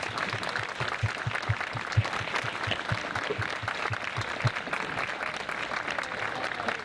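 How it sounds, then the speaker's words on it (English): A dinner audience gives steady, continuous applause for cancer survivors and caregivers standing in the room, a dense crowd of clapping hands with a few louder claps standing out near the front. "Let's give them a hand."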